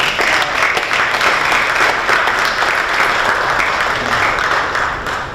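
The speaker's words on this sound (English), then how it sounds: "Give them a round of applause, you guys." A crowd at an evening benefit gathering gives a dense, loud round of applause as a couple walks out on stage, continuous and even before slowly easing off.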